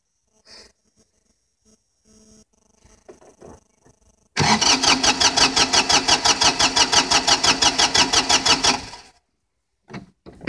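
A car engine turns over on a cold start, cranking in a fast, steady rhythm for about four seconds before cutting out, loud and close, with faint clicks and small noises before and after.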